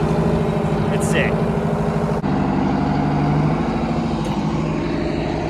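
A John Deere 7020 tractor engine runs at a steady low, rumbling idle, close and continuous throughout, with people talking over it at a show.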